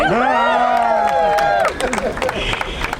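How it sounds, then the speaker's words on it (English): At a street-naming ceremony for Jimi Hendrix Way, on the corner of 8th Street and 6th Avenue, a crowd cheers loudly, then breaks into scattered clapping and applause with chatter. "Yeah, you can clap."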